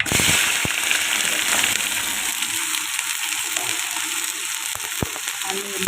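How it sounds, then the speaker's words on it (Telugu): Green chilies and onions spluttering and sizzling in hot oil with mustard seeds for a home-style fish curry, a steady close crackle with a few sharp pops throughout. "చిప్పట్లాడుతుంది కదా కొంచెం కొంచెం పచ్చిమిర్చి ఉల్లిపాయ"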